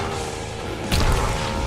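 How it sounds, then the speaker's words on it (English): A video game explosion lands as a sudden dull thump and rumbling burst midway through, rising out of a steady background bed of game noise. "I just took an explosion."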